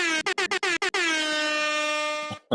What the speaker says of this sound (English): You think I don't have an air horn?